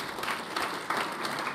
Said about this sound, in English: rarely get applause before you speak at Chatham House